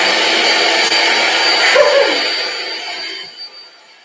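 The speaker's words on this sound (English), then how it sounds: "I'm vacuuming the table." A vacuum cleaner whirs steadily and loudly as it sucks crumbs off a table indoors, its motor note sliding slightly and fading toward the end.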